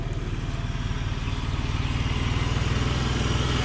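A used car's engine idles under an open hood with no emission equipment fitted. It gives a steady, close, rumbly throb with a regular pulsing beat.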